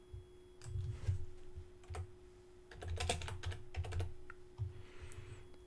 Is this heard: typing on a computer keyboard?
yes